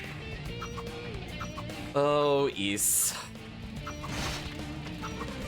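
Birds attack in Ys 3: Oath in Felghana with a squawking, harmonic cry and crashing hit effects over game music, while a voice talks briefly.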